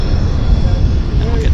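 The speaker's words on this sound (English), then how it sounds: "Falcon 50. Based here for charter. Boy, what a fantastic, beautiful looking corporate aircraft." Dassault Falcon 50 corporate jet at an airport, a loud steady roaring engine rumble heard nearby, with a voice talking over it.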